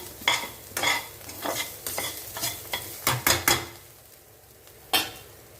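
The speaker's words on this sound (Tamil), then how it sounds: "இந்த பக்கம் பார்த்தீங்கன்னா வெறும் வெங்காயம் வதக்குறதுங்க வெங்காயம் பச்சை மிளகாவும் தான்" Onions and green chillies sauteing in a pan, with a spatula repeatedly scraping and stirring in uneven strokes over a light, steady sizzle, close up and with no talking.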